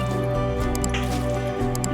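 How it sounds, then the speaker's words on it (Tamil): Batter for potato cheese balls is stirred with a splash of water, giving soft wet squishing and dripping sounds close by over a steady background bed, with no speech. "இதை கொஞ்சம் தண்ணி விட்டு இந்த மாதிரி மிக்ஸ் பண்ணணும்"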